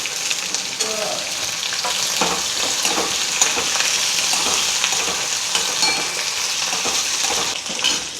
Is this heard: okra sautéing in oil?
yes